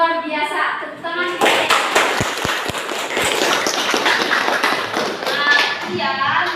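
Students in an Indonesian classroom clap for group presentations, a dense burst of hand claps with a few sharp louder slaps, mixed with voices talking over it throughout.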